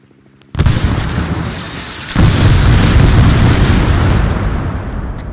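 A frag grenade goes off in a video game battle, a sudden loud blast followed by a second heavy boom that rumbles on and slowly fades, close and alone.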